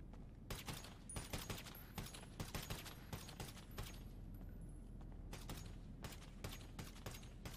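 Gunfire at a firing range in the video game GTA (NoPixel roleplay): rapid clusters of sharp shots come in repeated volleys, quiet overall but dense, with brief pauses between bursts.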